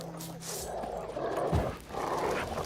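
A dog in The Witcher 3 growls and barks a few times at moderate distance during a fight, fairly faint amid game ambience.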